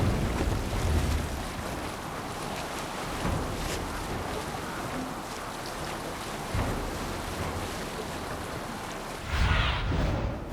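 A Viking longship sails the open sea in Assassin's Creed Valhalla, with steady rushing wind and broad wash of waves against the hull, a continuous loud surf-like roar that swells briefly near the end.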